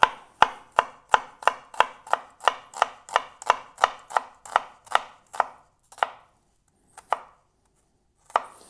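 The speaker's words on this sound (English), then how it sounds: "Chop up the onion." A knife chops an onion on a board in a kitchen, about sixteen crisp, evenly spaced strokes in a fast steady rhythm that then slow to a few isolated chops, close and clear with no talk.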